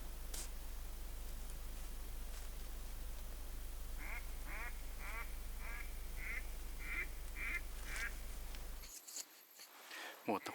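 Wild northern ducks quack in a short series of calls at dawn on the Vychegda river during autumn migration, heard through steady background noise and rumble before the sound drops away near the end.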